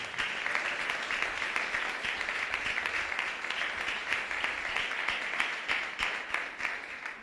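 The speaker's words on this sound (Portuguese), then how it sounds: "Dá uma salva de palmas para o teu Senhor." A church congregation applauds during a Portuguese-language worship service, producing a continuous, fairly loud roar of clapping. Sharper individual claps pop out of the dense wash and keep it going for several seconds.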